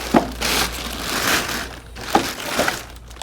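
Plastic bag being crinkled and pulled off a Pride Mobility i Ride 2 scooter during unboxing, with close, loud rustling bursts that rise and fall unevenly for a few seconds.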